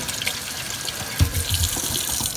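A cucumber being rinsed under a running kitchen tap, a steady close wash of water with a heavier splash partway through as the stream hits the vegetable and sink.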